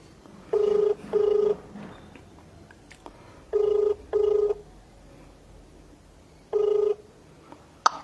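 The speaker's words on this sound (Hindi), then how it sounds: "जो कि मैं सीधे फ़ोन लगा रहा हूं।" Ringback tone of an outgoing phone call, heard as two double-ring bursts followed by a third single burst, clear and steady over a quiet room with no talking.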